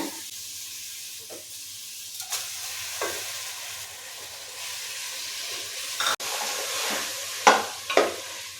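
Washed barley grains tipped into a hot pan and stirred, giving a low sizzle with scattered scraping strokes and a few sharper clinks near the end, no voices.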